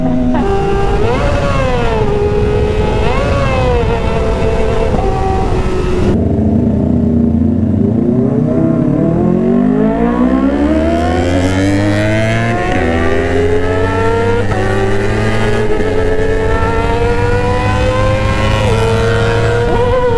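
A Kawasaki Ninja ZX25R with an SC Project exhaust revs hard and loud, its engine note climbing and falling in repeated sweeps, then rising again from a lower idle in a long, steady climb.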